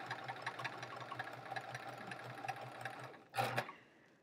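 A sewing machine chain piecing quilt pieces runs in one steady, rhythmic whirring stretch, quiet and close, then stops, followed by a short burst of fabric rustle or handling before falling nearly silent.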